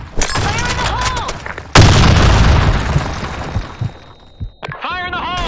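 Grenade blast in a first-person shooter on an office map: a sudden loud broadband boom that rumbles and decays over a few seconds, with voices shouting before and after.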